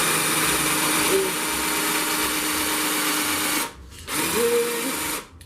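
Power miter saw cutting wood boards for a DIY garden bed, a loud steady high-pitched whine running continuously, briefly dropping out for a moment before spinning up again and cutting off near the end.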